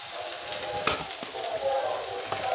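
Garlic and parsley frying in a pan, a close, continuous sizzle with a few sharper crackles and stirring scrapes over a couple of seconds, without speech.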